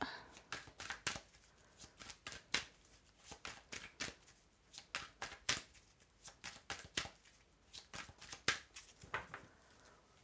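Tarot cards being shuffled by hand in a rapid series of crisp, papery riffles and slaps, steady bursts repeating throughout at close range with no talking.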